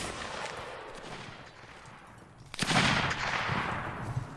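Musket gunfire from soldiers shooting in a line battle video game, with scattered shots crackling at a distance and then a louder close volley and rolling fire.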